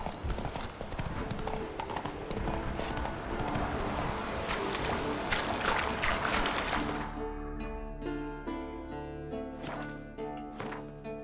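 Geralt's horse Roach in The Witcher 3 trots with close, even clip-clop hoofbeats over game music, the hoof rhythm growing more distinct toward the end.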